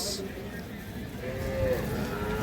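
Sahiwal breed bull calves on a farm in Birampur, Dinajpur, where a single faint, drawn-out moo rises over a quiet background murmur.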